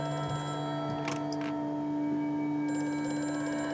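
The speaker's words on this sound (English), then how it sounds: "Oh, the phone." An old telephone rings twice in a dim mansion in Amnesia: A Machine for Pigs, short bright rings over a steady low hum, no talk.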